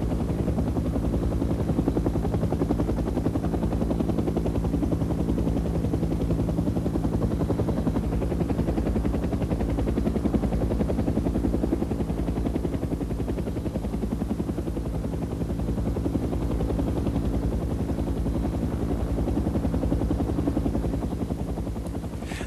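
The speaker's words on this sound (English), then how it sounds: "The gunships remain in the area throughout, circling and laying down suppressive fire until the last of the transports have left." Military helicopter gunships circling over a Vietnam War landing zone, a steady loud rotor and engine drone holding throughout with no distinct gunfire standing out.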